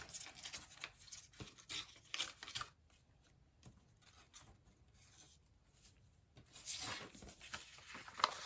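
Paper is torn by hand in a quiet craft room to remove an unwanted section while shaping an envelope pouch, giving soft, close ripping and rustling in short bursts with pauses between.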